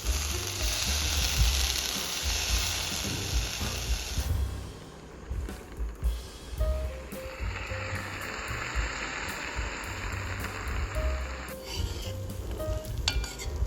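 Bitter gourd curry with black masala is stirred and mixed in a pan after lemon juice goes in, giving close scraping and sizzling with a brief lull midway before the stirring resumes.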